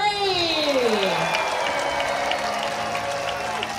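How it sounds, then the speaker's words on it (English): A large outdoor audience at an orca show in San Diego breaks into sustained, steady applause after a descending whistle-like tone fades, with the clapping holding loud and even to the end. "I want everyone to give a huge round of applause once they pop up"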